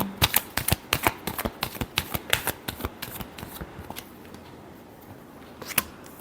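Tarot cards riffled in a rapid run of crisp, close slaps, tapering off into a quieter pause with one last sharp flick near the end.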